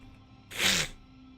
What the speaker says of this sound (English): Sorry about the sneezing and everything like that